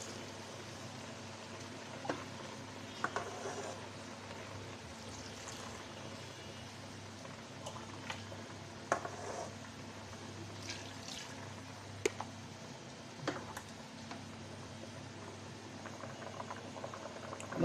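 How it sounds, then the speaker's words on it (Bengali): Pre-boiled milk simmers in a large pot with ash gourd pieces and reduced sugar syrup, giving a soft continuous bubbling with scattered light pops and drips, quiet and steady, with no voices. "এখন আমি দুধ দিয়ে দেব। দুধ আমি ফুটিয়ে নিয়েছি।"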